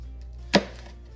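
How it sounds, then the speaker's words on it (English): One crisp knife chop through vegetables on a cutting board while preparing beef bone broth, a single short close thud in a quiet kitchen. "We're just going to cut them up a little bit"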